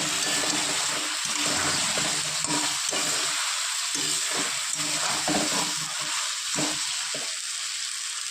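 Spice paste being sautéed in a pan for a Bengali rohu fish curry with drumsticks and potatoes, giving a steady loud sizzle with scraping stir strokes throughout, no voices.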